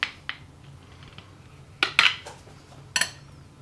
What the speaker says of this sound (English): I don't even know what's the best way to slice it.